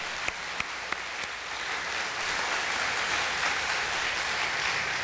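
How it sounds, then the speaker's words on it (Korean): An audience at a church seminar on anti-discrimination legislation claps, starting with a few separate hand claps and swelling into sustained, even applause from a roomful of people. "한번 박수 한번 올려드릴까요?"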